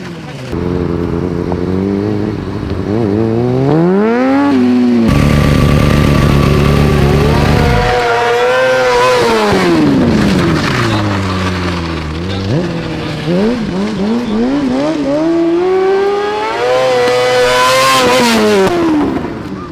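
Motorcycle engine revving hard and accelerating through rising and falling gear sweeps, loud and close, with a steady low idle drone in the middle; people talk over parts of it.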